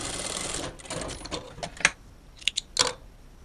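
Sewing machine stitching fabric, a fast rapid run of needle strokes for about a second and a half that slows and stops, followed by a few sharp clicks, close and clear.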